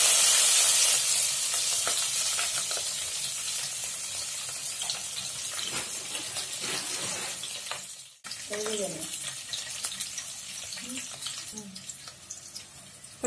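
Chana dal and a slit green chili frying in hot oil for tomato rice, a steady sizzle with stirring scrapes, loud at first and easing, with a brief break and a few short voice sounds later.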